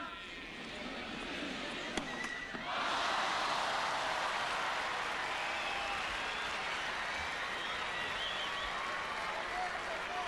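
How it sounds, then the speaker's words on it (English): Crowd at Roland Garros breaks into sustained applause during a first-round clay-court match, the clapping swelling abruptly a few seconds in and carrying on steadily to the end, with some talk underneath at the start. "Crowd ready to applaud the end of that match"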